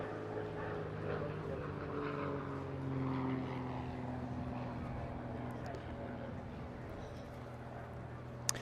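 A T-67 Firefly, a small French-designed wooden two-seat aerobatic propeller plane, drones steadily in a sustained engine hum at an airshow over Eastbourne, with background noise throughout and a brief sharp tick near the end.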